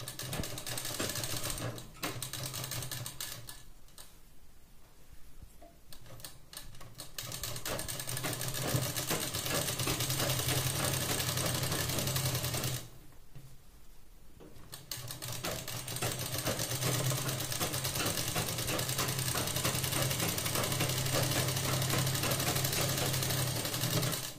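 A sewing machine stitches a blouse seam in long, steady runs of rapid mechanical clatter, close and loud, pausing twice briefly before starting again, with no talking.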